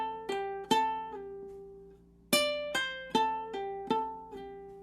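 Ukulele riff of plucked, ringing notes in short clusters, followed by a gap of sustained decay at the end of the measure before the pattern repeats, close and clear with no talking.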